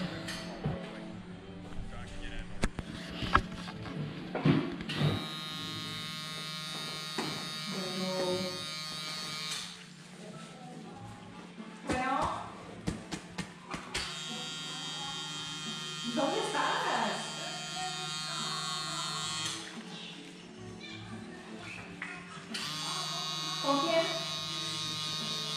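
Electric tattoo machine with needles buzzing steadily during a tattoo session, a continuous close whine that stops and restarts several times, with a person talking over it.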